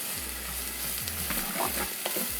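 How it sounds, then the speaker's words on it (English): Diced celery and half a small white onion sauté in coconut oil in a pot. The sizzle is steady and close, with light stirring scrapes and soft low thumps recurring about once a second. "Now we're only gonna cook this until our onions start to turn translucent."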